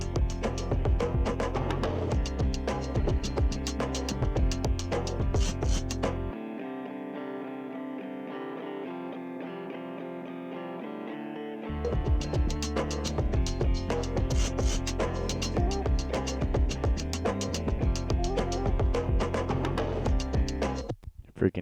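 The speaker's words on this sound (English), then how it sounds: "It's a Nashville Strat, and it's tuned an octave down." A Nashville Strat electric guitar tuned an octave down, run through a CR4, plays a dense, loud, distorted part with a thinner quieter passage in the middle before the full heavy sound returns.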